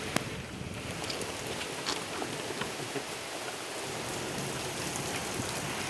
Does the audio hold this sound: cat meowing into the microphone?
no